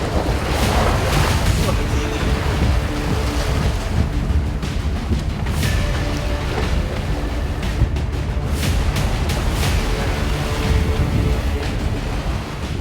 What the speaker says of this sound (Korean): 중심을 잡기 힘들 만큼 파도가 요동을 치는데요.